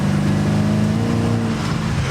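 BMW Z3 M Roadster, around 400 hp, engine pulling hard at quarter throttle in second gear, a loud close continuous drone climbing steadily in pitch.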